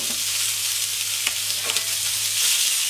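Meat searing on a hot plancha, partway through cooking after a second turn, giving a loud, continuous close-up sizzle with faint crackles throughout and no talk.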